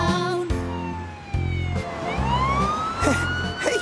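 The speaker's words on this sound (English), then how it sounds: "Hey, kids, a police car." A loud police siren sweeps up and down close by, alternating with rhythmic engine or horn-like bursts, no talking.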